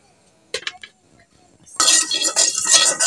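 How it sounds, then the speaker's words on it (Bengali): A lid goes onto a pan of pumpkin, eggplant and papaya cooked with fried spice paste: a quick pair of metallic clinks, a short quiet pause, then a steady, fairly loud hiss and sizzle from the covered pan. "এখন এক ঢাকনা দিয়ে ঢেকে দেই।"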